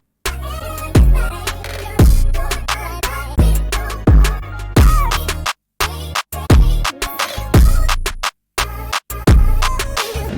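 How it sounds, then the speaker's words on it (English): A hip-hop beat bridge with claps landing on the downbeat, heavy kicks and chopped melodic samples, loud and rhythmic with brief dropouts between phrases. "I'm going to delete the original clap pattern and I'm going to play it on the downbeat"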